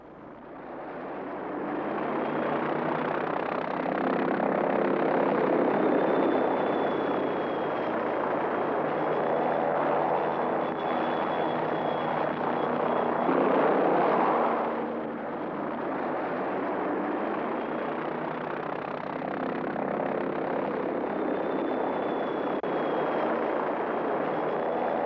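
A helicopter flying with a steady, loud broadband roar and rotor drone that persists throughout, swelling slightly midway, with no speech.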